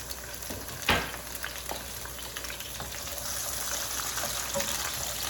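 Cherry tomatoes dropped into a pan over low to medium heat give a sharp splash, then a steady broadband sizzle that builds slightly and holds, loud and close with no talking.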